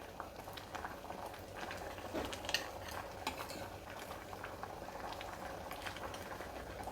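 Raw mango dal boiling in a pot on the stove, a steady close bubbling and hissing simmer that runs continuously with soft occasional clinks.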